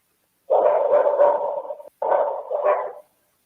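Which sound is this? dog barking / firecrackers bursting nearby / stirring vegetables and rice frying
dog barking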